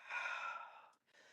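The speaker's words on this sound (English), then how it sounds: "breathing in" A long, audible inhale through the mouth during a mat pilates exercise, close and soft, ending with a brief pause and then a faint breath out.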